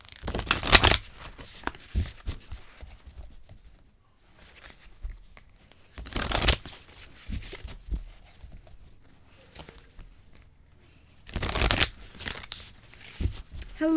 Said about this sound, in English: Put your energy into the cards while I shuffle them.